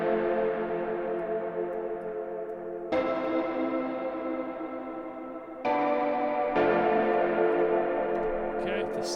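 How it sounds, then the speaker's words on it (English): Distorted, reverb-drenched synth patch from Logic Pro for a song remake, playing sustained harmonic chords in four blocks, each restruck with a sharp onset and a slow fading tail; loud and steady, with no voices. "Now I have some distortion here."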